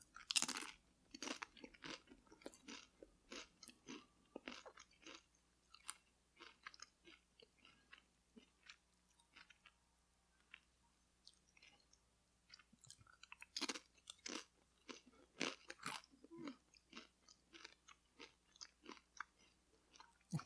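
Crunchy potato chips being chewed close up, a long series of sharp, irregular crunches and bites with short pauses between bursts, fairly quiet overall and without talk.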